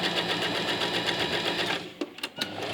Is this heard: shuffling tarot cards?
no